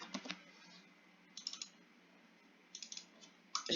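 Short bursts of typing on a computer keyboard while writing a book manuscript: three quick clusters of soft, close key clicks separated by quiet pauses, alone in a hushed room.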